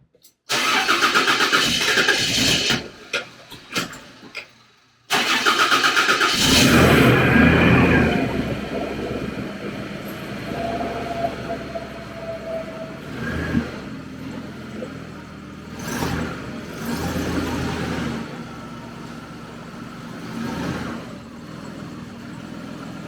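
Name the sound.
Toyota Land Cruiser 80 series engine cold start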